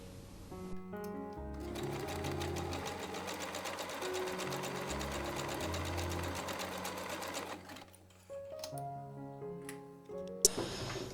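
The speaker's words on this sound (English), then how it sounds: "And sew the sides, and we have something which resembles some panties." A sewing machine stitches the side seams of basic fabric panties in a long, even run of rapid needle strokes, close and continuous, then pauses and resumes with a few short bursts.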